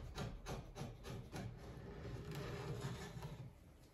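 Old finish scrapes off a wooden coffee table in repeated rough, rasping strokes, close and fairly quiet, the scraper dragging over the wood in a loose rhythm.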